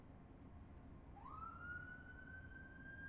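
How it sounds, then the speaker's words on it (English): Emergency vehicle siren on a busy main road near a junction, a rising wail that starts partway in and holds a steady tone, faint and distant beneath low traffic rumble. "I do apologise for the siren, folks."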